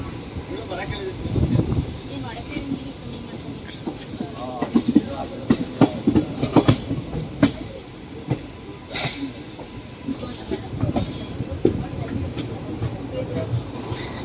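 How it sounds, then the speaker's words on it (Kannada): A train at Shivamogga station, bound for Talaguppa, rumbles with clanking wagons and a brief burst of hissing air, moderately loud and steady, while people talk over it. "ನೆಕ್ಸ್ಟ್ ಈ ಟ್ರೈನ್ ಇಲ್ಲಿಂದ ಟುವರ್ಡ್ಸ್ ತಾಳಗುಪ್ಪ ಹೋಗುತ್ತೆ ರೀ"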